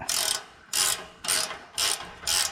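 A ratchet wrench tightening exhaust clamp bolts on a car exhaust repair, five evenly spaced bursts of sharp clicking, loud and close, with no talking.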